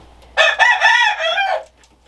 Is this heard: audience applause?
no